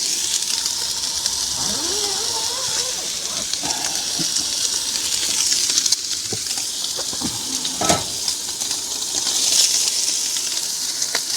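Steak and vegetables cooking inside a tent in cold weather, a continuous close sizzle with occasional clicks and scrapes from handling, no talking.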